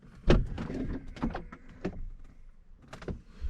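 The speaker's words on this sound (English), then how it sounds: "I'm going to trigger the central locking" Central locking on a Mercedes W126 560SEL unlocking all doors: a sharp initial clunk followed by a series of short mechanical actuator thunks and clicks, close by and alone.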